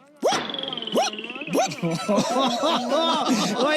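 A dog barks close by in quick, rising yelps that turn into a run of whiny, excited vocalizations.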